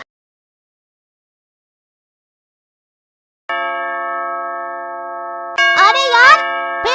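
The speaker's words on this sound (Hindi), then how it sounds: "अरे यार फिर आज सुबह कौन घंटी बजा रहा है?" A doorbell chimes with a sustained electronic ding-dong tone in the morning after a stretch of silence, then a voice cuts in briefly over the ringing.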